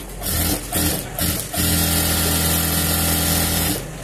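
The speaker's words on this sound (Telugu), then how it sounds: "దాన్ని ఇంకో స్టిచ్ కూడా వేసుకున్నాం 3 స్టిచ్ వేసుకున్నాం" A sewing machine stitches a blouse piece cut from a saree for a one-year-old baby, a few short bursts and then one longer, steady whirring run, close and loud.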